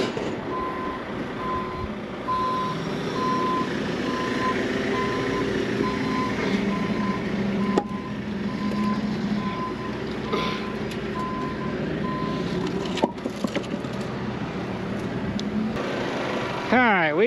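A truck's reversing alarm beeps steadily while it backs away, over a rumbling engine with brief clanks and a voice talking.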